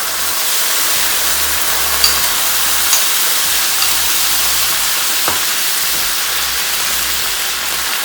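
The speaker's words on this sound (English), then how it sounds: "Go ahead and add the beautiful flavorful sauce" Sauce pours into a hot pan of tofu and stir-fry vegetables, setting off a loud, steady sizzle and frying hiss with a few light clinks, close up and with no talking.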